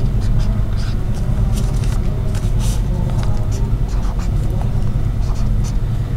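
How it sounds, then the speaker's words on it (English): Writing on a paper foldable, with steady scratchy pen strokes running under a loud, constant background rumble. "On that little leftover, we are going to write symbiotic."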